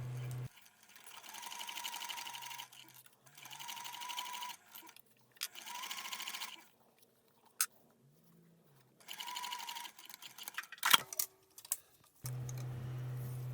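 A sewing machine runs in several steady bursts of stitching, basting the layers of a SOLANA crossbody bag together with the zipper tape, with short quiet pauses and small handling clicks between runs.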